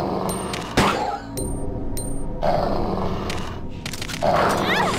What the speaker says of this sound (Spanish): Hay perros también.